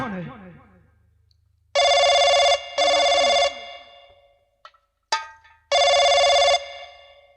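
An electronic telephone bell rings in three loud, evenly spaced bursts, with faint rustling and clicks in the quiet gaps.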